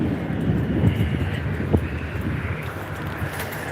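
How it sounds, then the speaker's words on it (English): A heavy vehicle rumbles past loudly outside a barbershop in Ironton, a sustained low roar with a couple of sharp knocks, alone without talk. "We got a truck that wants to be heard."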